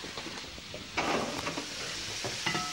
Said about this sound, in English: Can I stop stirring it?